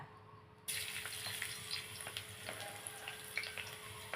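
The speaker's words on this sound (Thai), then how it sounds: "พอกระทะห่อนแล้วเขาใส่กระเทียมลงไปจ้ะ" Steady sizzling and crackling of garlic frying in hot oil in a pan, starting suddenly and continuing evenly, quiet and close.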